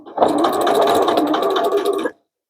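A sewing machine stitches the lining seam of a denim tote bag in a single close, steady, rapid burst of about two seconds that stops abruptly.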